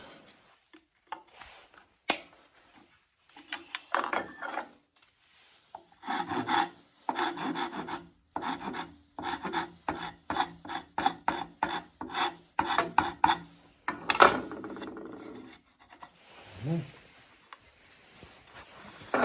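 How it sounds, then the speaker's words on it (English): Dried glue being broken and scraped off while side dot marker lights are installed on a vehicle, heard as rapid, rhythmic rasping strokes, close and steady, with short pauses and no speech. "Just break the glue off here."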